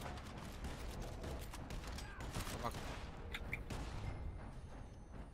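Busy gunfire crackles through a Red Dead Redemption 2 Online shootout, with many rapid shots near and far layered with mechanical clicks, while players talk over it.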